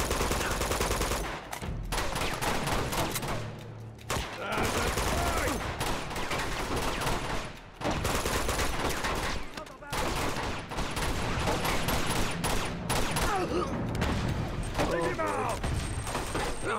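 Sustained firefight in the video game Uncharted 2: Among Thieves, continuous overlapping automatic gunfire and impacts with a few short lulls, loud throughout.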